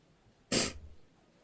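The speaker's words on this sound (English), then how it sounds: "And I have another sneezing coming." A single sudden sneeze bursts out close by against a quiet room, sharp and loud for a split second before tailing off.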